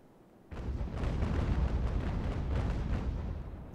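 A ship's cannons fire in Ultimate Admiral: Age of Sail, opening with a sudden booming broadside that rolls into a sustained, heavy rumble of gunfire for several seconds, loud and dense.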